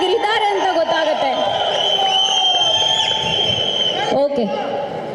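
Audience at a Kannada film pre-release event clapping and shouting together, a loud, dense wall of cheers and applause that swells through the clip and briefly dips near the end.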